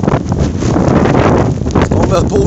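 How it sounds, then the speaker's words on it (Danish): Strong gusts of Storm Bodil on Zealand, beside a forest, buffet the microphone in a loud, continuous roar with rough surges throughout. "Stormværet Bodil er nu kommet"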